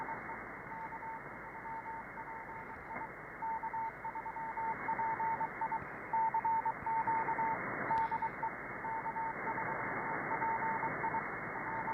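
An amateur ham radio transmission comes in on shortwave near 5347 kHz as a steady band-limited hiss with a repeating dotted tone running through it and brief clicks of interference. The whole stretch lasts twelve seconds.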